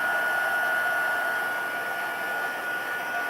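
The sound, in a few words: heat tool blowing loud air for embossing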